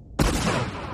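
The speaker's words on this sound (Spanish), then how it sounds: "¿Dónde ha sido esa explosión? ¿Han explotado los misiles?" A sudden loud blast from missiles exploding in the Tomb Raider video game bursts in after brief quiet and rolls on as a dense, crackling rumble for the rest of the moment.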